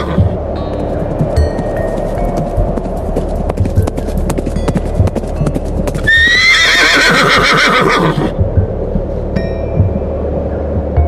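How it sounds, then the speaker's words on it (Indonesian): Hooves clip-clop steadily on a hard surface while a horse gives one loud, close neigh midway, the hoofbeats continuing after it without any voices. "terdengar sayup-sayup suara ringkian kuda yang makin lama makin mendekat"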